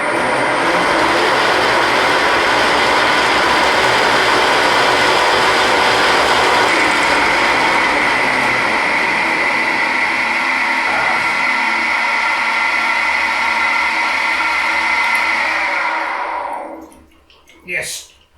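End mill on a lathe cutting a 10 millimeter hole under automatic feed, a loud continuous grinding mechanical chatter that holds steady for about sixteen seconds before stopping, followed by a brief clunk.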